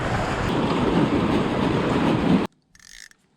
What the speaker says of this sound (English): You guys hear running water?